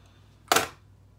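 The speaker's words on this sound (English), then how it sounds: "Now I'm just gonna take this MAC Fix Plus setting spray." MAC Fix Plus setting spray misted toward a face in one short, close hiss that fades within a few tenths of a second, with no talking.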